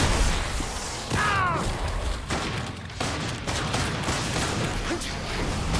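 Robots in the video game Killing Floor 2 fire on the player in a continuous dense barrage of shots and mechanical clatter, loud and close, with a brief whining tone early on.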